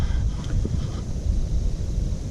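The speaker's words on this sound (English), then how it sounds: "It's really windy out here." Strong wind on a lake buffets the microphone in constant low roaring gusts outdoors, with no voices.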